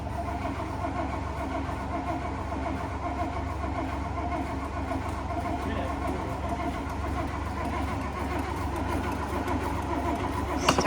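A 1956 Oldsmobile engine cranks over steadily and continuously at close range, a low churning drone running the whole time, with voices faintly underneath.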